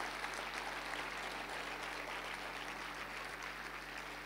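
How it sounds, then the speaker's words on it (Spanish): Congregation applause during a Spanish-language church service, faint and distant, a steady wash of clapping with a constant low hum beneath. "Dale un fuerte aplauso al Señor ahí donde estás"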